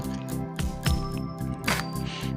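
Water is poured onto a Shiva lingam at a temple, giving close, wet splashing and dripping sounds in irregular bursts.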